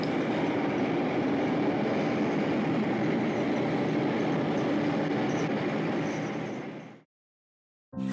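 The Santa Fe Super Chief El Capitan passenger train rumbles steadily into the San Bernardino, California depot in 1970, with rolling wheel noise and a broad rushing roar, continuous and fairly loud, then cuts off abruptly.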